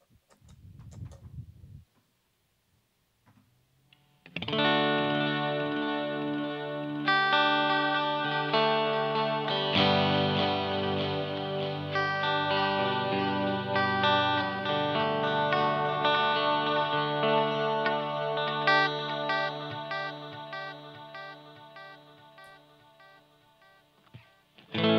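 Guitar played through a Strymon DIG delay pedal set to deep modulation, sustained chords with wavering, chorus-like repeats that swell and hang in a lush wash, loud and close, after a brief quiet start.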